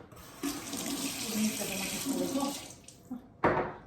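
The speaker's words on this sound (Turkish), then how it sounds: "Kavanozun dışını da yıkadım." Tap water runs over a glass jar as its outside is washed in a kitchen sink, a close splashing gush that wavers as the jar moves, pauses, then bursts out again briefly.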